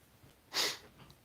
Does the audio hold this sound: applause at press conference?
no